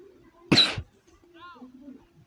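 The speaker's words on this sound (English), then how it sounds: "Sorry if you get annoyed by my coughing." A single sharp cough from a person playing a baseball video game, one loud close burst followed by quieter voice sounds and faint background tones.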